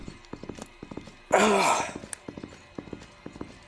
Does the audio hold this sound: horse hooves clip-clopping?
yes